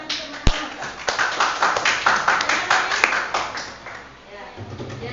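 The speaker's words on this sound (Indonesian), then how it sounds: "Tepuk tangan teman-teman." Classmates in a classroom clap together, a burst of quick irregular hand claps with a few sharp taps standing out, fading toward the end while a voice murmurs faintly underneath.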